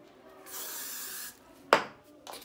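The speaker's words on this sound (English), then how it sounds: "So now we're gonna spray." A can of hairspray hisses in one steady burst lasting under a second, followed by a sharp click and a short second puff.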